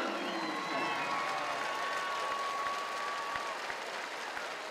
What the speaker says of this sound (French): Mesdames et messieurs, une bonne applaudissement pour Victor Hahn